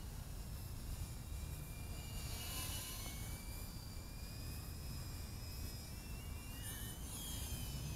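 Gofly Scorpion 80 micro whoop FPV racing drone in flight gives a continuous high-pitched whirring buzz from its small propellers, with pitch rising and falling as the throttle changes, fairly faint and steady throughout.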